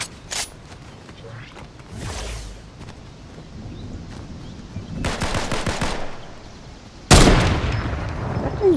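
Gunfire in Fortnite, Zero Build squad match: a short rapid burst early, then a denser rattling volley around the middle and a loud close blast near the end, over faint game ambience.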